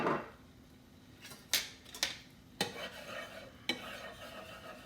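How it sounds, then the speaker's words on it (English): A metal scraper works bacon bits off an oiled griddle, with several sharp scrapes and clacks at uneven intervals over a low sizzle, close and without voices. "And then just start scraping it down. It's going to get all those bits of bacon off of there."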